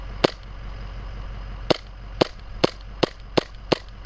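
Seven sharp gunshots from a handgun fired at targets on an outdoor range, spaced irregularly with a long pause after the first, then a quicker run of six shots, each a crisp close crack with no talking.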